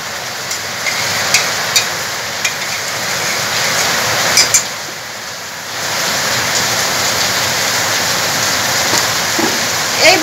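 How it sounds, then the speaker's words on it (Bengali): Heavy rain hisses as a dense, loud, continuous wash with scattered close drips and taps. It dips briefly around the middle and then returns at full strength. "খুব জোর বৃষ্টি পড়ছে, বৃষ্টির আওয়াজটা হয়তো আপনারা শুনতে পাবেন।"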